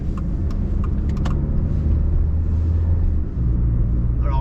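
Peugeot 206 1.4 XT Premium with automatic gearbox, 2000, driving on the motorway: a steady, loud low engine drone and road rumble run throughout, with a brief dip near the end.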